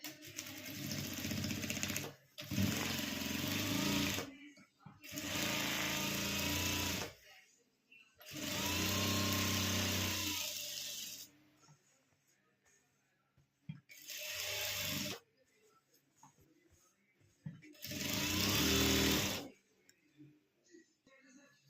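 A sewing machine stitches a line along cloth pressed down on a homemade fabric doormat, running in several loud bursts of a few seconds each with short pauses between them.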